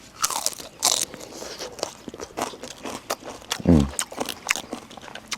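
Crisp pork cracklings crunch and get chewed in quick, close bites at a Thai street market, loud sharp cracks scattered through the clip with some soft movement around them.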